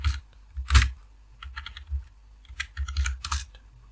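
Clicky bursts of typing on a computer keyboard as a prompt is entered, irregular clusters of keystrokes with short pauses, close and clear with no talking.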